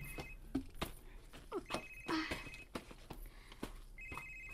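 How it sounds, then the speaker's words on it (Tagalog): A cellphone rings in a domestic drama scene, its electronic ring chiming in short repeated bursts at low volume, mixed with soft rustling and handling noises nearby. "ang imong cellphone, nag-ring."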